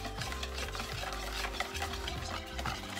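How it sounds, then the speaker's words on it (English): Pancake batter being mixed for carnival fried Oreos, with continuous rhythmic stirring and scraping in a bowl, close and fairly quiet. "Mix the whole thing now"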